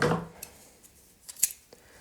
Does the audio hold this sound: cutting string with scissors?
yes